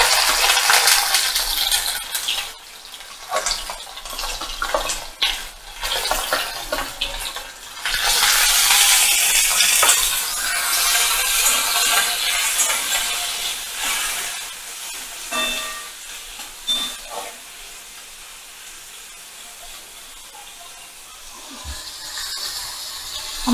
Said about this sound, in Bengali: তেলটা গরম হয়ে গেছে, এবার আমি চিংড়ি মাছগুলোকে তেলের মধ্যে দিয়ে দিলাম।